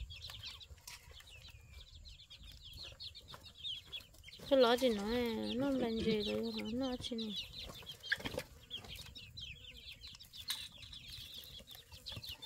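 Chickens cluck and a rooster crows, with a louder wavering crow rising in the middle of the stretch, heard close by alongside scattered talk and background rustling.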